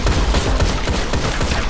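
Rapid, dense gunfire in the Destiny raid Vault of Glass, a continuous loud volley of overlapping shots crackling for a couple of seconds with no voices.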